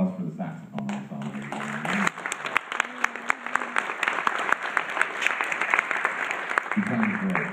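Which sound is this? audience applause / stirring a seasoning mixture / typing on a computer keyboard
audience applause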